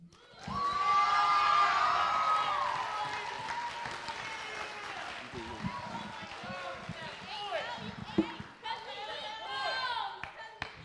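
Audience at a poetry slam breaks into loud applause after a slam poem, with cheering and whoops over the clapping; it swells quickly, then thins to scattered claps and crowd voices near the end.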